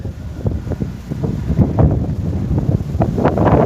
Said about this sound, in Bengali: ঘূর্ণিঝড় রোমেলার রিমেলের প্রভাবে সারা দেশের মতো রাজশাহীতেও বইছে বৃষ্টি প্রচণ্ড বৃষ্টি